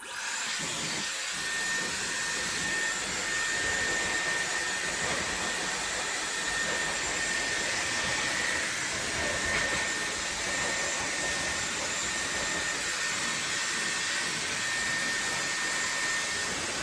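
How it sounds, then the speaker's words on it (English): A Dyson Airwrap blowing continuously at full power, a loud steady whoosh with a high whine, close by and uninterrupted. "And it dries my hair in about the same time as any other hairdryer."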